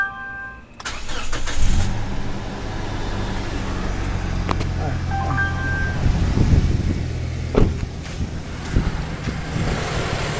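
A car engine cranks and starts, then settles into a steady low idle, close and continuous, with a few clunks and speech over it.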